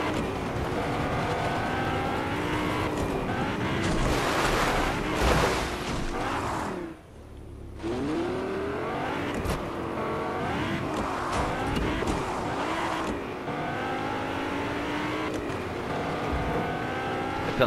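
A car driven in the video game Fortnite, its engine a steady revving drone that runs almost the whole time, dipping briefly once before resuming with busy game sounds layered on top.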